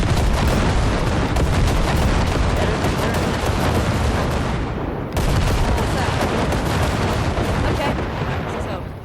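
Relentless, loud gunfire and explosive blasts tearing into wrecks in the video game Cyberpunk 2077, a dense continuous barrage with a momentary break midway before resuming.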